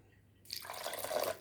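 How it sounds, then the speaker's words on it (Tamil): Water is poured into a cabbage chutney mixture with curd, starting suddenly after a short quiet and running as a soft, continuous close-up splash for about a second. "இது கூட நம்ம தண்ணி சேர்க்க போகிறோம்."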